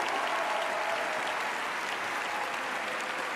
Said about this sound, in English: You guys were cheering for me so hard.